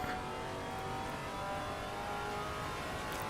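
GT3 race cars in the racing game Assetto Corsa Competizione at Watkins Glen, engines droning steadily and revving as they close in from behind, a continuous mid-pitched roar with no gaps.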